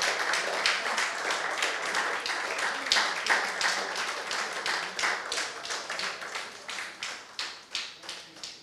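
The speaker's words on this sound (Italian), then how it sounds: "Invito il regista, per cui vi chiedo un applauso." An audience at a film festival masterclass applauds to welcome director Michael Radford, with sustained clapping that settles into a rhythmic unison beat and gradually thins toward the end.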